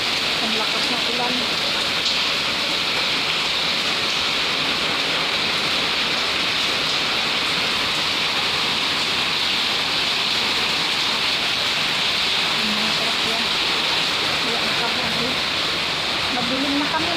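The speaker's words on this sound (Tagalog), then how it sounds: "Ang lakas ng ulan." Heavy rain roars in a constant, dense wash of sound during a power outage, with faint voices occasionally audible beneath the downpour.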